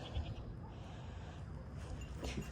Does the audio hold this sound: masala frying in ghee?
no